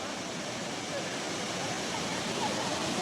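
A waterfall in the Kerala hills near Munnar and Kanthalloor roars as a steady, dense wash of falling water, with a voice faintly mixed into the noise.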